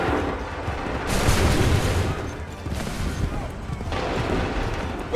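Musket volleys crack out in Assassin's Creed III as massed soldiers fire on command, several loud, rolling bursts of gunfire a second or two apart, with shouted voices mixed in.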